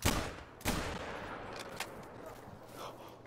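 Shotgun blasts fired at a moose outdoors, with two sharp reports standing out near 0.0 and 0.65 seconds and fainter cracks following over the ambient rumble.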